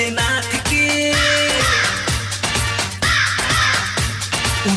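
Crow caws cut repeatedly through a Bol Bam devotional song, sitting over a steady rhythmic beat and melodic backing, loud and near throughout.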